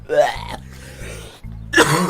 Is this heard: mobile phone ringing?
no